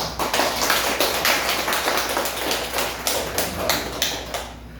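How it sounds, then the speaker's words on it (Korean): Applause from a church congregation welcoming a visiting member during a Sunday worship service, a steady wash of many hands clapping at close range that continues for several seconds and fades at the end. "박수 한번 합시다."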